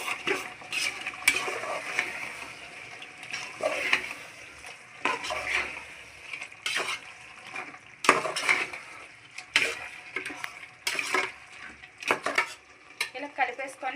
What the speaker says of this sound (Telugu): చికెను మొత్తం టమాటా అదంతా ఉంది కదా, అది ఇది మిక్స్ అయ్యేలాగా కలుపుకోవాలి బాగా.